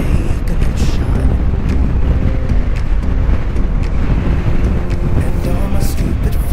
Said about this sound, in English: Wind's really picked up.